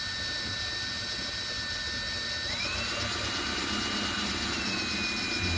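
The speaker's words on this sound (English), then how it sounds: "Always keep your drill kind of low." A power drill driving a screw into plastic whirs steadily at high speed, its pitch shifting slightly midway as it drives in, loud and close with no voices.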